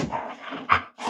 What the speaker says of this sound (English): I have two dogs in here